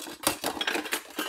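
A spoon stirs egg noodles in a pot of 4 quarts of salted boiling water, giving a quick run of close metallic scrapes and clinks against the pot sides with no talking.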